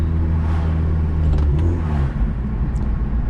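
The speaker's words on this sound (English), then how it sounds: "I just downshifted, upshifted." Inside a Hyundai Genesis Coupe fitted with new Torque Solutions bracket and bushings, the engine hums and revs with a low steady drone, rising and dipping as gears shift, heard close from the cabin without voices.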